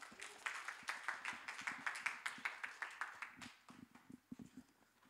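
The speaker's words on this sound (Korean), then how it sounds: "우리 큰 박수로 환영하겠습니다" A high school youth group at a Sunday church service claps in welcome, a loose rhythmic run of individual claps that thins out and fades toward the end.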